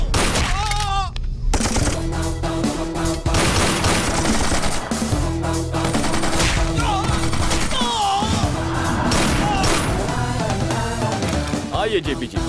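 Sustained gunfire in a South Indian action movie scene dubbed in Hindi: dense, loud volleys of rapid shots and machine-gun bursts run throughout, mixed with dramatic score and brief shouted dialogue.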